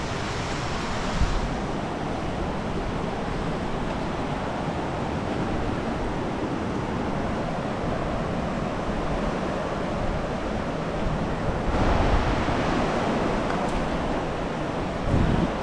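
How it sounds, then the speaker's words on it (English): A flooded Divune river in rural Papua New Guinea rushes as a steady, dense broadband roar with wind buffeting the microphone, loud and continuous with slight swells. "Yes, the river is a bit flooded."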